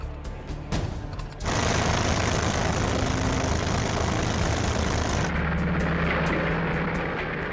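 World War II propeller aircraft engines roaring in flight as German planes support the Barbarossa offensive, a loud, sustained droning rumble that swells in abruptly and then lowers in pitch as it passes, with no talk over it.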